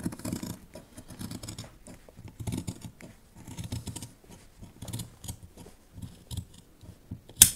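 Scissors snip repeatedly through fabric while a band collar is cut for a garment, a steady close run of crisp cuts with short pauses between them.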